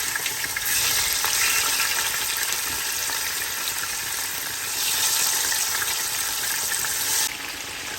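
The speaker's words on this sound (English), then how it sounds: "It's frying now." Fish fries in hot oil, a loud steady sizzle and crackle that swells and eases, close by with no talking.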